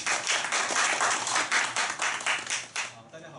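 Clapping from a small audience at a two-minute self-introduction meetup in Taichung, a brisk patter of hands that swells and then thins out toward the end.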